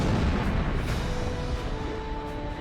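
A short roaring whoosh of a missile launch in the game Ace Combat Zero, a loud broadband rush that eases off slightly over about three seconds with no talk.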